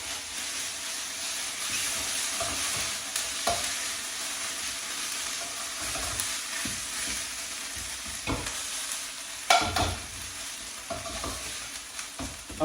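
Garlic and ginger paste spits and sizzles in a hot pan with caramelised onions, a steady crackling hiss broken by occasional stirring scrapes and louder pops, close up with no talking.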